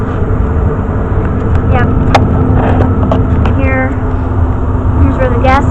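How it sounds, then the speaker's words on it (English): An old Day and Night gas furnace running in a grandparent's house, giving a steady, loud low roar and hum close by, while a person speaks briefly over it. "I thought that very old day and night gas furnace would be cool to film"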